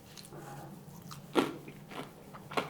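Crunchy fried potato mojos are bitten and chewed up close, with a sharp crunch of the first bite followed by a few more crisp crackling chews in quiet surroundings.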